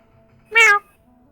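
A lap cat being held lets out a single short, clear meow, close and alone against near silence.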